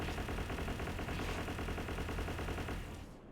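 Sustained rapid automatic gunfire from a video game, shooting at a level 60 oil rig enemy, loud and continuous for about three seconds before tapering off at the end, with no talking.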